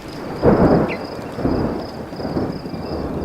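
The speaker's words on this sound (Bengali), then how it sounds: "আকাশ কালো করে জোরে বৃষ্টি এলো" Heavy rain with rolling thunder, used as a sound effect in a spoken ghost story, rumbles in close, swelling bursts over a steady wash of rainfall, with no voices.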